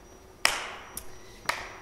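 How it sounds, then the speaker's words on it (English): Three separate sharp hand claps in a slow, even rhythm keeping time to a Christmas dance song, close and crisp with short decays between them. "And we're going to clap for a little bit."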